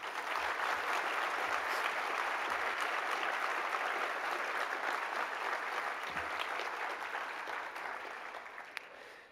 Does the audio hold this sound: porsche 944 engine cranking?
no